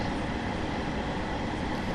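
A Class 150/2 diesel multiple unit runs through snow between Penzance and St. Austell in a train simulator game, a dense, continuous rumble of engine and rolling wheels, loud and unbroken from start to finish.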